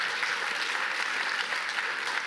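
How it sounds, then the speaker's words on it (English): A live audience at a forum talk breaks into steady, dense applause, a continuous wash of many hands clapping at close range with no voices on top. "Look, that's worth an applause."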